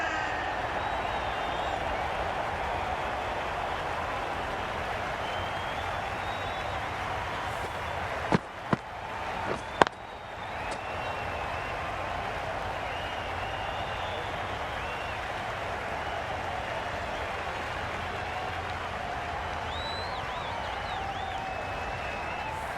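A cricket crowd applauds the batsmen at a legends match between West Indies and India: sustained, steady clapping and crowd noise throughout, broken by a few sharp knocks near the middle.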